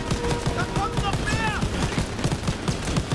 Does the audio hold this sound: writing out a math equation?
no